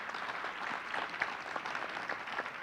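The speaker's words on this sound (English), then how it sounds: "let's have a round of applause for Ms." Audience applause at a Rutgers University-Newark event, a brief, moderately dense round of clapping heard from the room, steady and unaccompanied by talk.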